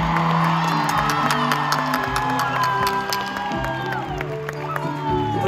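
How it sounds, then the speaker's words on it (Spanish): A concert crowd in San José applauds, cheers and whoops loudly at a tour show, with sustained musical tones ringing beneath the noise. "Por eso este aplauso es para ustedes,"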